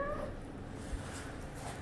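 A disabled cat whose hind legs do not work, living in an animal clinic, gives a brief, faint meow at the start, then only a soft, quiet background hum remains.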